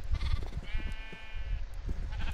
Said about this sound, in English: Oh my gosh, baby sheep are the cutest.